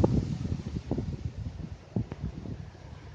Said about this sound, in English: but still windy as hell